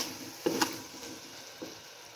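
Egg fried rice stir-fried in a pan, a soft continuous sizzle broken by a few sharp clanks and scrapes of a spatula, close and without talk.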